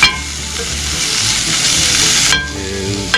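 Bacon fries in a cast iron pan on a camp stove with a loud, steady, close sizzle that cuts off abruptly near the end, leaving quieter crackles.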